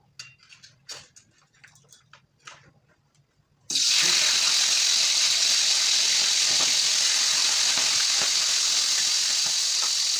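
Quiet clinks and taps, then a sudden loud, steady rush of hissing frying as food drops into boiling oil and keeps bubbling.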